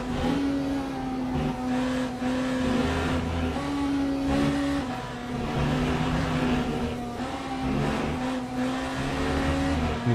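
A BMW hypercar at Qatar in Le Mans Ultimate holds a steady, loud engine note as it accelerates down a long straight, the pitch climbing between gear changes, with no voices over it.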